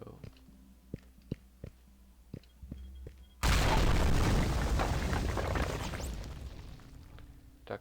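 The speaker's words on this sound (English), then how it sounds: "An explosion may have sealed us inside the ruins while they attempt to scrap our ship." In the video game Stellar Tactics, a few sharp clicks and ticks come first, then a sudden loud explosion erupts into a broad roaring blast that slowly fades over several seconds.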